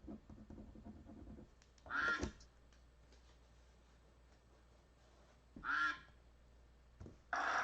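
A duck at an auction gives three loud, nasal quacks spaced a few seconds apart, near and clear over a low background hum.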